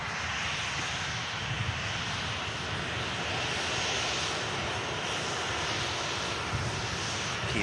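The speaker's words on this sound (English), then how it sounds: "KLM 73 just beginning its takeoff roll now." A KLM airliner begins its takeoff roll, its jet engines making a steady, broad roar heard from some distance, holding at an even level with no talk over it.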